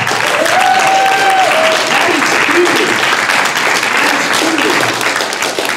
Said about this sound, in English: Now that deserves a round of applause.